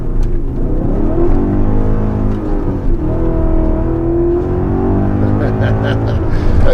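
A 2003 BMW E39 M5 engine hums and revs steadily close by, its pitch rising and falling as it pulls through gears, with some voice-like sounds mixed in.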